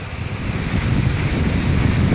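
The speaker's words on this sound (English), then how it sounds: "And whoa, high winds." High winds buffet the microphone during a heavy Florida thunderstorm, a steady loud roar of gusting air with a deep rumble that swells slightly and runs unbroken throughout.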